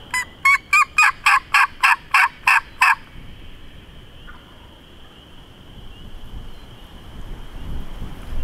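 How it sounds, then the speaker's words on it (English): Wild turkeys gobble in a rapid burst of about nine loud, rhythmic calls over roughly three seconds, followed by steady wind rumbling across the microphone in an outdoor roost setting at dusk. "it appears all the turkeys that we left yesterday are still there"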